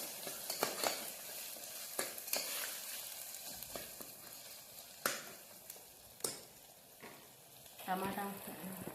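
Tomatoes cook down in a pan for a chicken curry, sizzling steadily while a spoon stirs and scrapes in sharp, irregular bursts close by.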